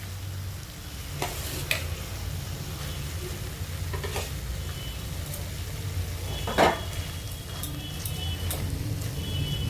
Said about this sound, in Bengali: এবার মশলার সাথে ভালো করে বেগুনটা কষিয়ে নেবে।